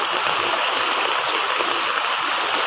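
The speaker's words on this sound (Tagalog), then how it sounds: "Yan po yung bulwak ng tubig na galing sa ano, Tulyahan River" Floodwater from the Tulyahan River rushes in a loud, steady roar during Typhoon Carina's heavy rain, a continuous churning wash with no voices over it.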